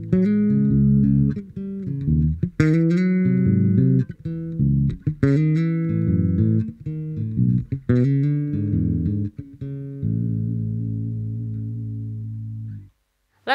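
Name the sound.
bass guitar through Markbass Little Mark Vintage tube bass amp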